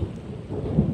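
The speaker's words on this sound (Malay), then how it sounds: "dengar tu guruh" Thunder rumbles low and heavy during rain on a fishing trip, a brief deep roll under a steady wash of rainfall with no voices.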